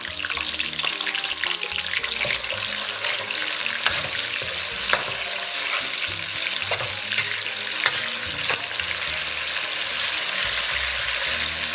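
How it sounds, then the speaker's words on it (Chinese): Scallions, ginger and garlic with chili sauce and doubanjiang stir-frying in a wok of warm oil, a steady loud sizzle and crackle with occasional clinks of the spatula, no talking. "咱们把葱姜蒜给它下里边，给它简单爆香，里边来勺辣椒酱"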